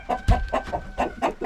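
Several chickens and roosters on a farm clucking in quick, overlapping bursts, close and fairly loud, with a rough rhythmic chatter and a thump near the start.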